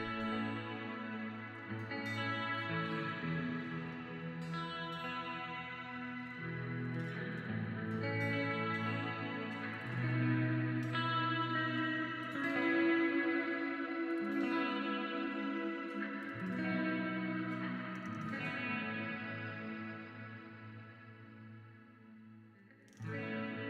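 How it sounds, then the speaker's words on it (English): Electric guitar played through a texture pedal with a touch of reverb: sustained, layered chords and ringing notes that blend and trail off, with a lush, effected shimmer across the whole passage. "You add a little bit of reverb."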